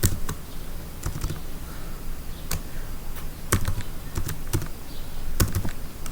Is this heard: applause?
no